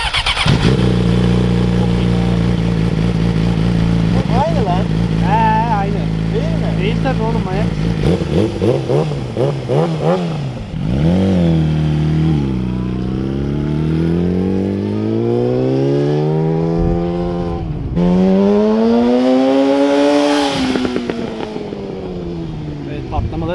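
A Yamaha YZF-R6 sport bike fitted with a Tiger exhaust revs hard up close, then rides off with loud rising and falling engine pitch as it shifts through gears and accelerates away.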